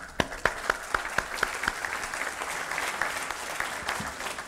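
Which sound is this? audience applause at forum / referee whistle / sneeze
audience applause at forum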